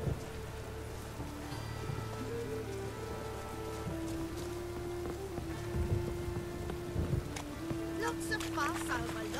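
Steady rain patters on surfaces throughout in The Witcher 3: Wild Hunt, with tonal game music and scattered sounds layered over it.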